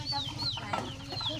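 Chickens in a backyard beside a fish pond give soft, repeated clucks and short rising calls at close range over a low steady background hum.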